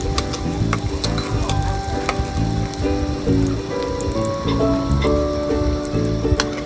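Garlic, onion and ginger fry in hot oil for adobong pusit, giving a continuous crackling sizzle with occasional utensil clinks and scrapes, close and fairly loud, with no talking.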